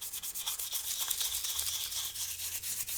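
Steady brushing scrub on a smoke-stained Nintendo Switch coated in oven cleaner, a continuous hissy rubbing texture with rhythmic strokes, close and fairly quiet with no talking.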